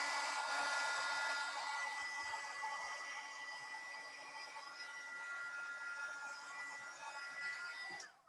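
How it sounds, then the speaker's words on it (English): Heat gun blowing over a paint pour canvas gives off a steady, faint airy whir with a fan hiss that holds evenly for several seconds before cutting off. "I'm gonna hit it with this real quick, and this is just a heat gun"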